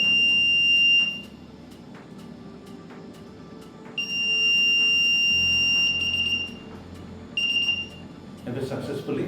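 An Arduino Uno buzzer triggered by an IR obstacle sensor sounds in repeated shrill electronic beeps of varying length, close and loud, followed by handling noise at the end.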